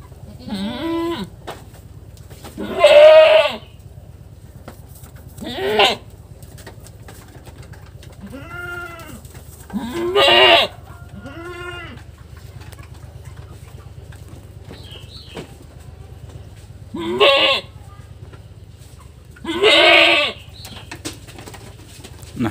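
A goat bleats repeatedly, about eight loud separate calls spaced a few seconds apart, close up over a low steady background hum, with no talk.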